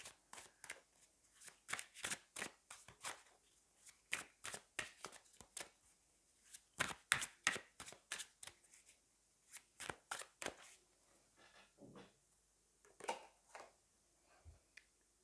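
Tarot cards shuffled by hand in a steady run of crisp riffling snaps, pausing briefly before a softer slide as a single card is drawn; close and clear, with no talking.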